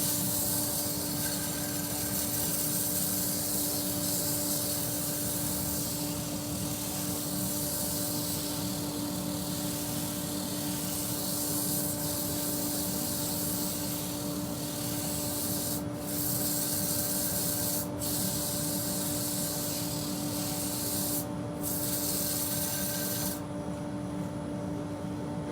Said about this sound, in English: Rotary sander now. I've just adjusted the rotary sander